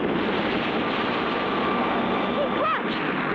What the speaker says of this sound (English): There goes the black jet again!